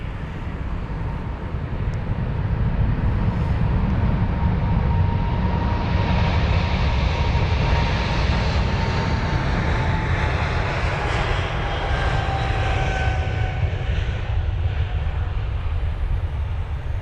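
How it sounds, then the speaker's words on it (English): An American Airlines Boeing 777 on the runway at London Heathrow produces a loud, sustained jet engine roar with a rising whine, heavy low rumble and wind buffeting the microphone. "just in time for the American 777"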